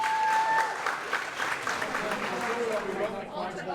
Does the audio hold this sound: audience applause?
yes